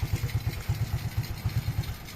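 A restored Honda XRM 125 motorcycle engine idles after starting, a close, steady low thumping beat with light mechanical clatter and no talk.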